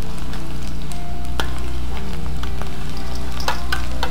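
Tempeh and palm heart fry in a pan, giving a loud, continuous sizzle with scattered crackles and the clink of stirring, and no one speaks.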